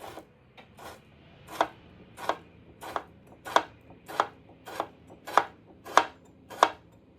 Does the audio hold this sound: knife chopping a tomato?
yes